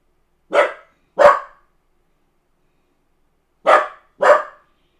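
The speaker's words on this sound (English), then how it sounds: "He's barking." A dog barks in two pairs, two sharp close barks, a pause of about two seconds, then two more, with silence between.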